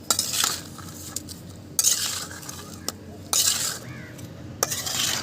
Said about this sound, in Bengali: এখন একটি খুন্তির সাহায্যে সমস্ত কিছু খুব ভালো করে নেড়ে দিচ্ছি।